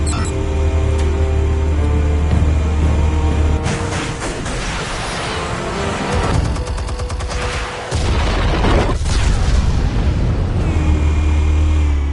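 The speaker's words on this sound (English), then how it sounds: "Explosives armed. Fire when ready." Explosions and gunfire in the video game Batman: The Telltale Series, a dense barrage of loud blasts and booming bursts with rattling shots, a brief lull around the middle before a steady rumble resumes.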